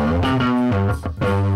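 A bass guitar's amp tone blended with its DI signal, giving sustained, slightly gritty low notes that slide between pitches, played alone and fairly loud.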